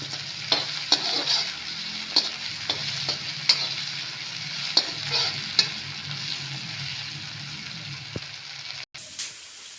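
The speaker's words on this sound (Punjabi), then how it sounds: "ਤੇ ਪਿਆਜ਼ਾਂ ਦੇ ਨਾਲ ਹੀ ਆਪਾਂ ਇਹਨਾਂ ਨੂੰ ਚੰਗੀ ਤਰ੍ਹਾਂ ਭੁੰਨਾਂਗੇ" Onions fry with garlic, ginger and green chili in a soft, steady sizzle, broken by repeated scraping stirs of a utensil against the pan.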